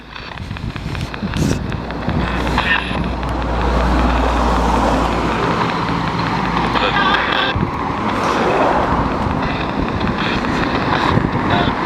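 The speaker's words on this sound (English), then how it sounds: "Wait till the cars go." Cars rush past on a nearby road, a continuous roar of traffic with low rumbling engines and gusts of wind buffeting the microphone.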